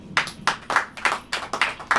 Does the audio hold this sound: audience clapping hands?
yes